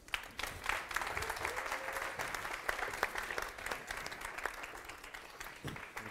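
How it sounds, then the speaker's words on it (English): An audience applauds Martin Wolf, economics commentator, as he is welcomed onstage; dense, steady clapping from a crowd, fairly soft and distant, holding for several seconds before it thins out. "please give a warm round of applause to Martin Wolf"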